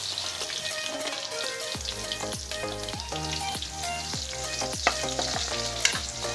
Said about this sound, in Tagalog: Isunod ang sibuyas